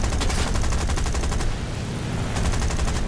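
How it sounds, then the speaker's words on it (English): A rear gunner's machine gun on an SB2C-1C Helldiver dive bomber in the War Thunder flight game, firing loud, steady rapid bursts that briefly ease off and then resume. "Gunner shooting at something"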